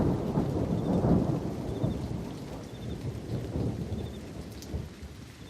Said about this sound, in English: Nolan has used the sound of crickets and thunder